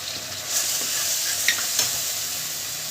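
Ground spices such as turmeric, cumin and coriander sizzle steadily in a pan for a jackfruit and prawn curry, a constant frying hiss with a few brief stirring scrapes and no voices.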